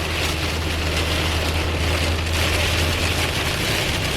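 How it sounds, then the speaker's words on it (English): Heavy rain pounds a car driving in San Antonio, making a dense, steady roar of water and road noise inside the vehicle with no letup. "It is still just dumping rain here."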